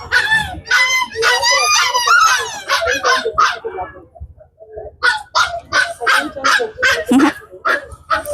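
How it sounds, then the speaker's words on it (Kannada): A dog at a rabies vaccination clinic yelps and whimpers loudly and close by, in a run of strained, howling cries, then a short pause before a series of sharp, repeated yelps. "ಒಂದು ನಾಯಿ ಜಾಸ್ತಿನೇ ಒದ್ರಾಗತೈತಿ"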